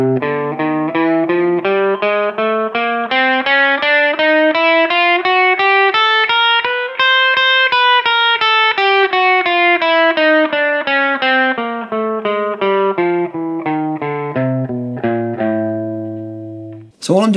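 Electric guitar plays a chromatic four-note-per-string warm-up exercise, a steady run of single picked notes climbing up the neck and back down, close and clear with effects, ending on a few held notes.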